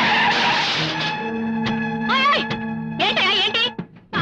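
A car skids with screeching tire squeals toward people in a street, the squeal wavering and rising in a few loud bursts before cutting off.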